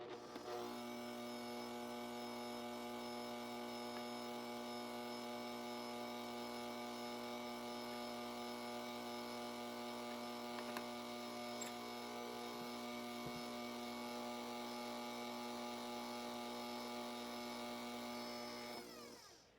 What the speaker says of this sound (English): So now I'm going to run the mixer on, I have 4 speeds. I'm going to run it on speed 2.